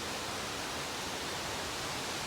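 Waterfalls pour down beside a backpacking trail near Pinto Lake, a steady broadband rushing roar of falling water filling the whole clip without pause.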